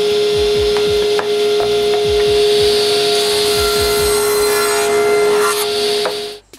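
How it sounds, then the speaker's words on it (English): Cherry wood pieces being cut to length, a loud steady power-tool whine with a hum that runs throughout, broken by repeated knocks and thuds of handling, then stops abruptly. "I cut all the cherry wood to this length."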